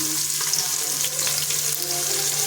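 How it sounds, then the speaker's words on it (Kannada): Onions frying in a pan for chicken biryani, a steady close hiss of sizzling oil with faint scraping, continuous and alone without voices. "ಅಪ್ಪ ಒಂದು ಉಳ್ಳಾಗಡ್ಡಿ ಹಾಕ್ತೀನಿ ರೀ. ಉಳ್ಳಾಗಡ್ಡಿ ಸ್ವಲ್ಪ ಕೆಂಪಗಲ್ಲಿ ಫ್ರೈ ಆಗಿ"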